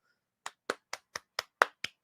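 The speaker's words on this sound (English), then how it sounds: "round of applause for you" A lone person claps eight crisp, evenly spaced times at close range against silence, a slow round of applause during a casual wrestling talk show.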